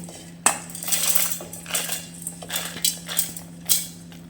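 Dry spices rattle and clatter into a mixer jar in a series of sharp clicks and taps, close by, with no talking.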